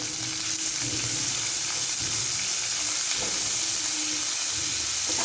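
Onions frying in a pan for bhindi (okra) chutney give off a steady, close hiss and sizzle that runs without a break, with faint stirring scrapes over the top.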